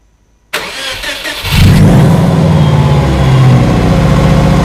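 A supercharged Subaru Outback engine cranks and catches after silence, then settles into a loud, steady idle and rev close by, alone with no voices.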